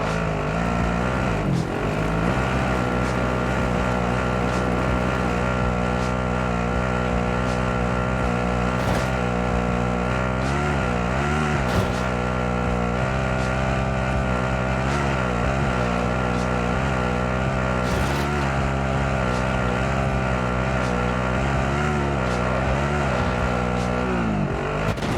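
Steady vehicle engine drone while driving in Call of Duty Warzone, a loud sustained hum with slight pitch shifts as the motor revs and settles, running without any talk.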